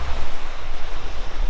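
Ocean waves wash onto a beach in a steady, close, broadband roar of surf, with some wind buffeting the microphone throughout and no voices.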